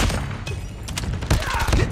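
Gunfire from a shooter video game sounds as quick bursts of shots and impacts over a brief, busy moment, fairly loud and close.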